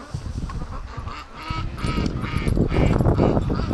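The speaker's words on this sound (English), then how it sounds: "Oh, that's a mess of ducks." Many ducks crowd the mouth of a creek, a dense chorus of honking quacks that stays loud and steady throughout.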